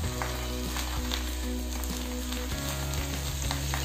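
Ghavane, a traditional thin rice crepe, sizzles on a hot pan, a constant loud frying crackle with faint scraping as it is turned, and no voices.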